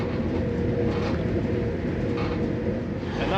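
Inside a train running from Aberdeen to Penzance: a steady, loud low rumble of the carriage in motion with faint rhythmic wheel noise, constant throughout with no talk.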